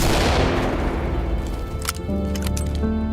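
Flashbang grenades go off during a tactical shooter match in Ready or Not, a loud burst at the start decaying into a dense ringing wash with scattered sharp cracks, no voices heard.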